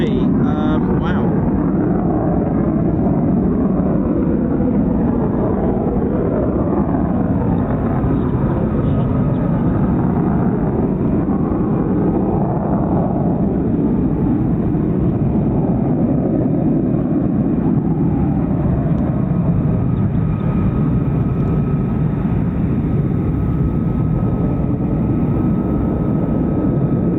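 A steady, loud roar of an F-35A Lightning stealth jet taxiing at RAF Lakenheath fills the whole stretch, with a commentator talking over it.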